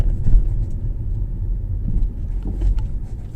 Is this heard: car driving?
yes